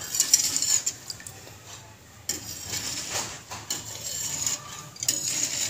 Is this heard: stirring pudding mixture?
yes